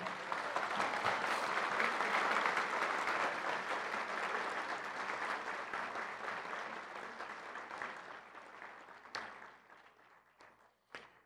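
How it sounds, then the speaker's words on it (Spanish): At an award ceremony honoring young prize recipients, a hall full of people applauds in a long, dense ovation that slowly fades, leaving a few scattered claps and knocks at the close. "les vamos a tributar un fuerte aplauso"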